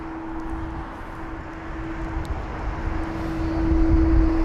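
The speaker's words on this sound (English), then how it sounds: "You've got the Qatar 350-900 there taxiing down" A Qatar Airways Airbus A350-900 taxis at London Heathrow, a continuous distant jet-engine drone with a steady hum that grows slightly louder toward the end.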